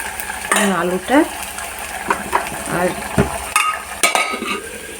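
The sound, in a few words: stir-frying meat in a pan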